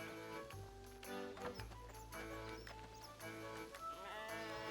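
A sheep bleats a few times in RuneScape 3 amid game music and ambient sounds, quiet and slightly distant.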